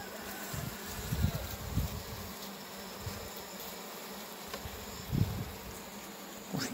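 Honey bees buzz from an opened hive during a pre-frost colony check in Romania, a dense, continuous hum close by with small swells and no voices.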